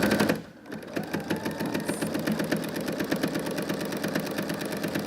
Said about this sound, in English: let's drop that and we'll stitch this down.